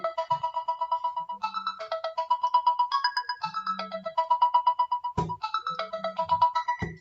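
A melodic phone ringtone plays loud and close, repeating rapid electronic note patterns continuously for several seconds, with brief low thumps between phrases and no talking.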